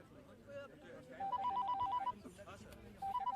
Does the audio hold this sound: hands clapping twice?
no